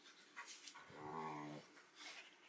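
Dogs in a home vocalise in a brief run of whimpering, panting yelps with one sustained whiny howl in the middle, fairly faint and slightly distant, with no talk over it.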